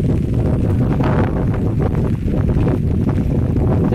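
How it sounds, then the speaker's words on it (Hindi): Loud, constant wind during rain roaring and buffeting against the microphone, a dense rumbling rush with no pauses. "हवा बहुत तेज चल रही है, लगता है छतरी पलट जाएगी"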